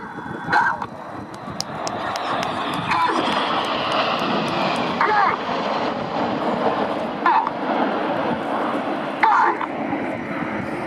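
Red Arrows jets of the Royal Air Force aerobatic team sweep past at the Biggin Hill airshow in a flat right-hand break, a loud sustained roar of jet engines rising and falling with crowd noise underneath.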